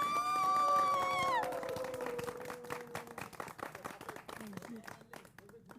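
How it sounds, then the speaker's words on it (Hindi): An audience claps after a dance performance to a song in a TV drama; a fading musical note gives way to scattered, moderately loud clapping with voices mixed in. "तालियां"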